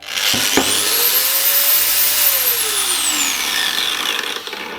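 An angle grinder motor spins up smoothly to a high whine, holds, then winds down, close and steady with no talking.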